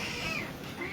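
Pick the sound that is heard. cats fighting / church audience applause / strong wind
cats fighting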